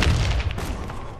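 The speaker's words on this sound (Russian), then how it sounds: "Осторожно, граната!" A grenade blast in a video game: one heavy, close boom with a loud low-end thump that fades quickly into rumble.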